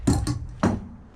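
Torque wrench tightening the blade tension on a sawmill: three quick metallic ratchet clicks, two close together and a third after a short pause, near and crisp.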